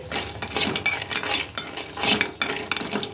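Cashews fry in a little ghee in a pan while a spoon stirs them, producing repeated close metallic scrapes and clinks over a faint sizzle, with no voices.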